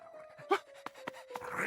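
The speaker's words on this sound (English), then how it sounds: "It's so noisy with Odie howling" Cartoon dog panting with short breathy bursts and a wailing howl rising in the middle, over a steady tone and background clatter, fairly close and loud.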